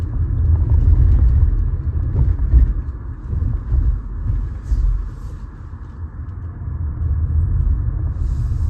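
Car driving at night through the streets of Istanbul, setting out from Çengelköy in Üsküdar, heard as a low, steady road rumble and engine hum from inside the cabin, swelling and easing gently with no voices.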